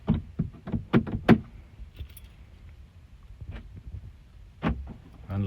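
Lift gate lock actuator on a Toyota Land Cruiser 100 Series after motor replacement, clicking and thunking through lock and unlock cycles: a cluster of quick clacks, a faint mechanical whir, then another sharp clunk near the end.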